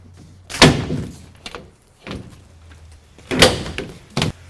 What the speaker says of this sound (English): Line it up and latch it down.